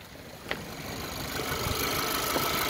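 A 2010 Audi A3 1.2 TFSI convertible engine idling, a steady low mechanical hum heard close and alone, with a faint tick near the start.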